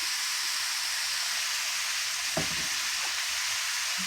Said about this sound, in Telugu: ఇప్పుడు ఆనపకాయ ముక్కల్ని నూనెలో మగ్గనిద్దామండి